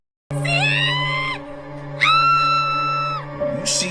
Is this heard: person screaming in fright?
yes